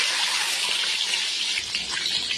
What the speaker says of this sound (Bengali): ডিমটা এবার তেলের মধ্যে দিয়ে দিয়েছি, এবার ডিমটা ভাজবো